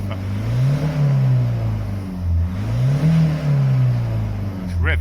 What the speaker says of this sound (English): It's revving now